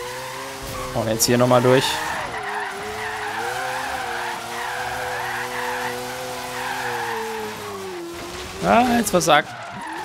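A car drifting at night in Forza Horizon 3, with an engine droning steadily and two short bursts of harsh tire squeal, while someone talks over it.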